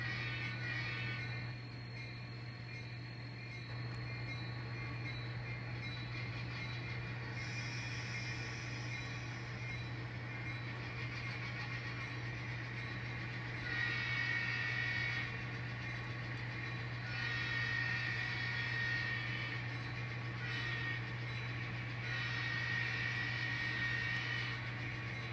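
A CSX locomotive pulls a string of train cars through a rail yard, its engine a steady low drone, with rising and falling rumbles and hiss as the cars roll along for the whole stretch.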